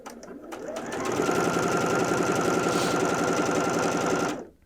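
A Bernette b77 sewing machine stitches fabric in a fast, even mechanical whir that ramps up, holds steady for about three seconds, then stops abruptly, close and clear.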